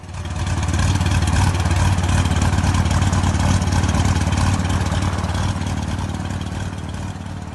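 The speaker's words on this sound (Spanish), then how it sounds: "encendió los motores y se dispuso a iniciar el despegue de la avioneta" Light aircraft engines starting up for takeoff, a steady loud mechanical drone with a low throbbing rumble and clattering texture that holds near-constant throughout, easing slightly toward the end.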